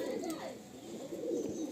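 A Teddy pigeon coos softly nearby, low rolling hoots in two short bursts, with people talking over the birds.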